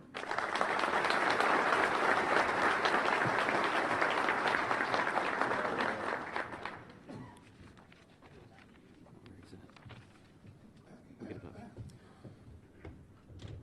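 An audience at a Rotary Club of Baton Rouge gathering applauds to welcome Dr. Ron Andrews, with loud, steady clapping for about six seconds that then fades into scattered claps and room noise.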